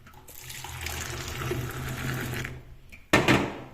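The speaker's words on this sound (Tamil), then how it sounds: "இந்த பால் கட்டி கட்டியாக இருக்கக்கூடாது அதனால் நல்லா இப்படி ஆற்றணும்" Milky tea is poured back and forth between vessels to cool and mix it, a steady splashing liquid stream running for a few seconds, close and fairly loud, ending with a sharp clink of metal.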